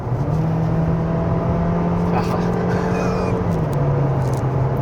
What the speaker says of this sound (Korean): 풀가속